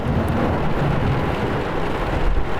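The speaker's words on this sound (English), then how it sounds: "we pull up to the first spot and this thunderstorm's moving in" A thunderstorm moving in over a predator-hunting spot in Mississippi: steady, dense rain hiss with low rumbling thunder underneath, continuous and fairly loud throughout with no voices.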